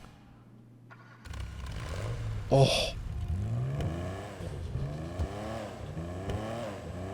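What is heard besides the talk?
Ferrari Le Mans edition engine starting and revving, GTA 5 video game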